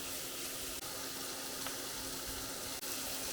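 A steady, hissing sizzle of mushrooms frying in a pan fills the whole stretch, broadband and constant, with no voices.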